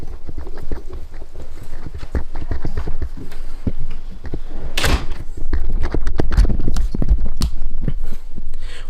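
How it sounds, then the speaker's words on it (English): A front porch door in an old house being pushed open after strike plate work, giving a run of sharp wooden knocks and clunks with a louder burst of rattle midway, close to the microphone. "I'll just push on the door and show you."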